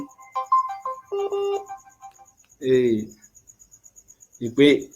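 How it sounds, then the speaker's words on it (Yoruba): A phone call's ringtone chimes in a short repeating melodic pattern, followed by brief bursts of talk over a live radio line. "ìpè ń jápè"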